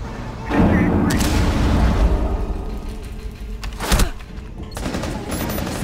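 Gunfire and explosive blasts in a Rainbow Six Siege team deathmatch on the Yacht map. A frag grenade is thrown, and sustained loud shooting and booms fill the scene. Sharp impacts stand out near the middle, and voices talk over the action.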